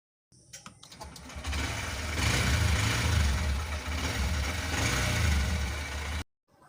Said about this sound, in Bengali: বাইকটা এখন সেলফ স্টার্ট করে তোমাদের কাছে দেখাবো যে এক চান্সই স্টার্ট ধরে যায় কিনা